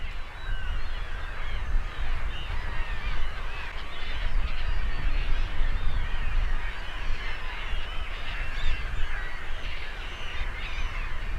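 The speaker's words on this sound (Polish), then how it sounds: "bardzo duże stada gęsi. Głównie jest to gęś zbożowa, gęś białoczelna, ale także i gęgawa" A large flock of geese, mainly bean geese, white-fronted geese and greylag geese, honks continuously at drained ponds, dense overlapping calls forming a steady clamor with no pauses.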